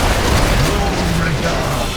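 A big bomb blast in World of Warcraft, a loud sustained rumbling roar with crackling debris that fills the whole moment without a sharp onset.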